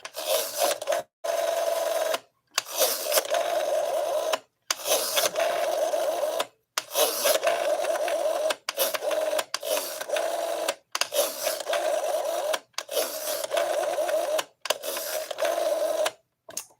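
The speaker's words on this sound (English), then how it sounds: "the old rotary phone" An old rotary telephone dial is turned again and again, each whirring return run lasting about a second and separated by short silent gaps, close and clear with no talking.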